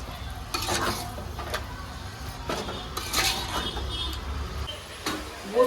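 Mutton pieces browning in a pan for Bombay biryani, with a soft continuous sizzle broken by several sharp stirring scrapes spread across the few seconds, close by.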